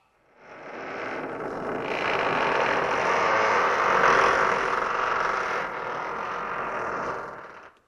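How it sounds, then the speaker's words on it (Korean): A heavy city gate of a Goryeo-era fortress creaks shut in a dramatized scene, giving one long, loud, steady grinding creak with mechanical rattling that lasts about seven seconds before it stops abruptly. "유의민을 추종하는 잔당들이 도망가지 못하도록 성문을 닫아라!"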